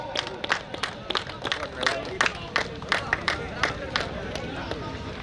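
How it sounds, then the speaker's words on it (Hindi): Applause from a crowd at a post-match presentation ceremony for a local cricket tournament, with a burst of uneven claps and babble beneath, while an announcer speaks over it. "कोसला राजू को ଗୋଟେ जोरदार ताली लागो।"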